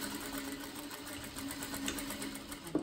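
Sewing machine finishing a seam on a child's dress, a steady continuous mechanical whir running at an even pace throughout, with a small clack near the end.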